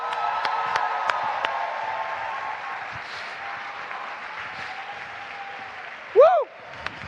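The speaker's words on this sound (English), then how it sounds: "Huge applause" Conference audience at Europe's largest education meeting applauds steadily as the organizing committee head is welcomed on stage. A dense, even wash of clapping runs throughout at moderate level, with a few sharp claps standing out and a brief louder whoop near the end.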